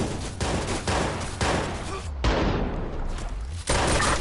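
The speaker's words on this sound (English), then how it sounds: "This grenade launcher never disappoints." A grenade launcher fires in the video game Watch Dogs, heard as several loud, close blasts in quick succession with broad crackling bursts and brief gaps between them.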